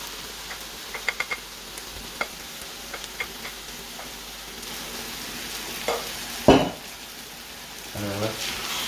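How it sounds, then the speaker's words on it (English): A spice blend hits a hot pan for chicken curry, giving a faint, steady sizzle with scattered light ticks of a utensil and one sharper clatter toward the end. "we're going to add the spice blend into the pan"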